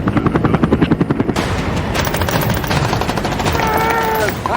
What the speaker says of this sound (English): The gunfire has started